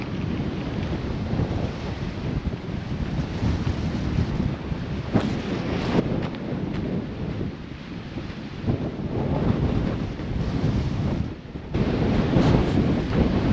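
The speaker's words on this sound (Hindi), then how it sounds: "बहुत तूफान है और बहुत ज़्यादा हवा चल रही है" Strong wind roars across the Mesquite Flat Sand Dunes in Death Valley, buffeting the microphone in loud, rumbling gusts that swell and ease over the stretch, with no talking.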